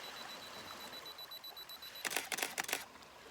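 A camera shutter firing three bracketed HDR exposures outdoors at a sunrise scene, a quick burst of three close mechanical clicks following a soft electronic beep over faint ambient hiss.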